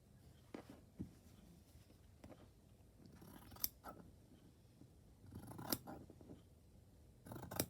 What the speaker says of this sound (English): I hate using scissors, I really do.